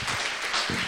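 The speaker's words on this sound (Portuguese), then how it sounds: "Você pode aplaudir Jesus? Aplauda o Senhor." Brief burst of applause from a church audience at a Christmas special service, steady dense clapping with a swell midway through.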